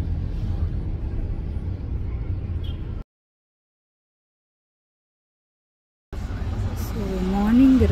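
Heavy morning road traffic in India, a steady broad rumble of passing cars for about three seconds, then a gap of silence before the roar returns with a rising tonal whine near the end.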